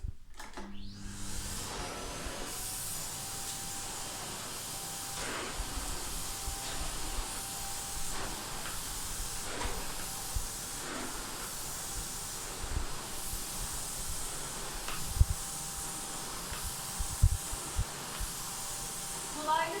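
A Philips PowerPro Max FC9750 vacuum cleaner starts up and runs on a floor with parquet and carpet settings, a steady hiss and whirr with occasional bumps as it is pushed and pulled back.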